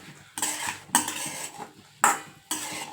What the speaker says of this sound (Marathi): मटकी टाकून घ्यायची त्याच्यामध्ये कढाईत आणि असं हलवून घ्यायचं सगळं एकत्र करून घ्यायचं